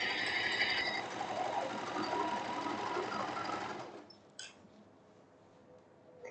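Sewing machine backstitching over elastic on a silk blouse sleeve, a close, fast steady whir for about four seconds that then stops, leaving a few faint clicks.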